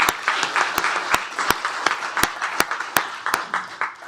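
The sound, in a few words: audience applause for 25 years of service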